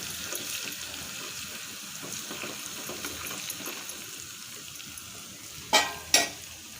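Crushed garlic fries in hot oil with a steady, soft sizzle, broken near the end by two sharp utensil knocks against the pan.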